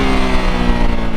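Triumph Tiger 900 GT Pro motorcycle engine pulling steadily in first gear, a loud, constant rumble with low harmonic drone and no pauses, heard up close from the rider's position.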